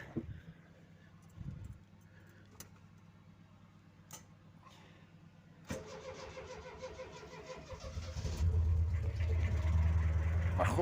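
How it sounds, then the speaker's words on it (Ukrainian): An Opel Record car engine on petrol cranks with a starter, then catches and runs, rising to a loud, rough idle in the last few seconds after quieter clicks and handling noises. "Заводимо саме на бензині."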